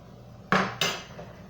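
Two quick metallic clanks of kitchen utensils against a pot while ramen broth is ladled, close and fairly loud, half a second apart, over a quiet background.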